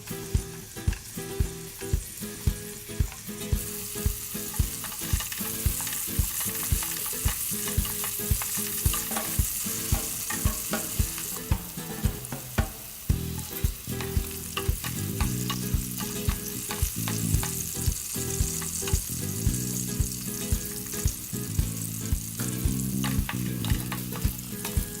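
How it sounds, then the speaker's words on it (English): Bell peppers sizzle and crackle steadily as they shallow fry in hot oil in a karai, with regular scraping and clinking of a utensil stirring the pan throughout. "Add the bell peppers to the karai and shallow fry them."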